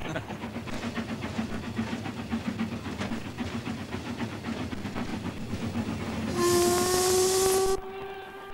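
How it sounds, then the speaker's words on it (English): A low rumbling rolls along steadily as a steam train crosses a concrete bridge, then a loud, hissing steam whistle blows for about a second before cutting off. "There's a train going over at the moment"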